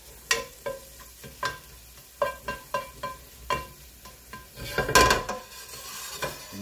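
Shrimp cook in a large pan as the liquid cooks out, a low sizzle broken by a series of distinct utensil knocks and scrapes against the pan, one louder burst of frying near the end, no voices.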